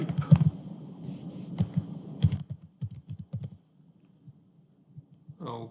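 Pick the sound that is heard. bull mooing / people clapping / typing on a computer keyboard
typing on a computer keyboard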